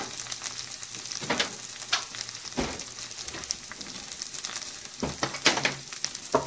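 Seafood sizzling in a pan over low heat for a Korean seafood scallion pancake (haemul pajeon), with a steady crackle and occasional sharper pops and stirring scrapes, close and alone.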